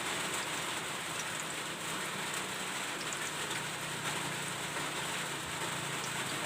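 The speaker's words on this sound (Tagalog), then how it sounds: "Yan guys, umuulan na dito." Steady, fairly heavy rain patters continuously on a surface, a dense hiss with no pauses and no voices.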